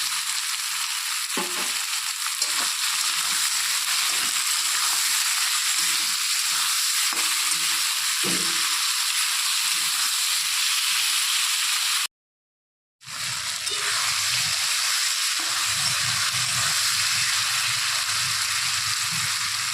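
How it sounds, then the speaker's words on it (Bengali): Potatoes fry with onions, tomato and salt in a pan with a loud, continuous sizzle, broken by a brief silent gap before the frying resumes. "আলু ভাজা হয়ে গেছে।"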